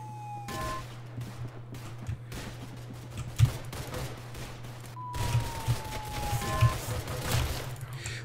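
Rapid gunfire in the Roblox shooter Arsenal, bursts of fusillade shots crackling in clusters with a sharper crack midway and heavier volleys toward the end, over faint background game sounds.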